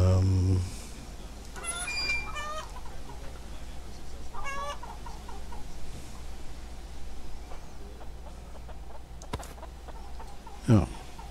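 Video game chickens clucking and squawking in a series of short bursts over a steady low background drone, with a brief louder squawk near the end.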